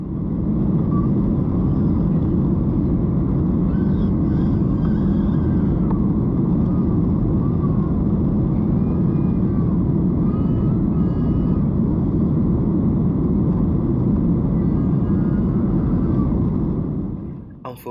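A Qantas Boeing 737-800 departs Sydney's runway 34 right, heard from inside the cabin as a steady, loud broadband engine roar that holds constant throughout and drops away only at the very end.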